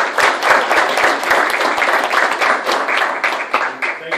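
An audience at a citizens police academy graduation applauds police and fire personnel with dense, steady clapping from many hands, loud and close, lasting the whole stretch.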